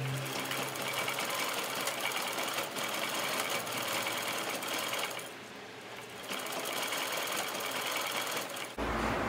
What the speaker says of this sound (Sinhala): ඊට පස්සේ අපි මේක ඉන වටේටමත් සිග්සැග් විදියට මහ ගන්නවා නූල් යන්නේ නැති වෙන්න.